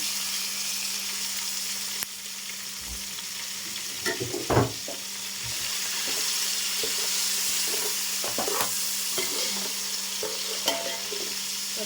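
Onions fry in a pan with mint and fenugreek leaves, giving a steady close sizzle and hiss with occasional scraping stirs and clinks throughout.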